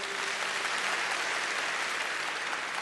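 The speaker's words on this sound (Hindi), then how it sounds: "जोर से तालियां बजाइए।" Audience applause at a talk, a sustained, even roar of many clapping hands heard at a moderate distance without speech.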